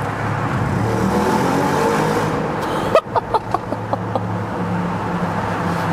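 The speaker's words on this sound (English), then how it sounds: "If we lower the window, and we can also hear the sound when accelerating." A 2016 Audi RS7 facelift quattro, 560 hp, in dynamic mode, accelerating in a tunnel with the window lowered: a loud, steady engine drone breaks into a sharp crack, then a quick series of burbling pops.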